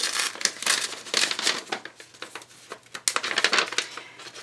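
A paper fan letter is unfolded and handled close up, giving crisp crinkling and rustling in uneven bursts with brief quiet gaps.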